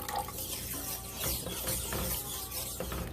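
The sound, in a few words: water poured into gravy pan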